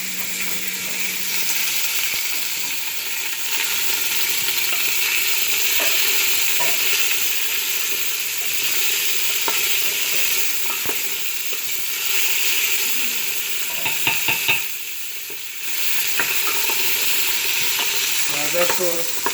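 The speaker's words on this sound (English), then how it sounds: "You can hear the vegetables cooking behind us here in the pot." Vegetables for chicken soup cook in a pot with a continuous sizzle and frying hiss, broken by occasional stirring clinks and scrapes, close by with no talk.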